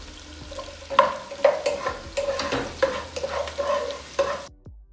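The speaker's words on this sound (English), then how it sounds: "That is garlic I'm adding in." Garlic sizzling in a non-stick pan while being stirred with a wooden or rubber spatula for a steamed tilapia soup, with close, rhythmic scraping strokes over a constant fry that cuts off abruptly at the end.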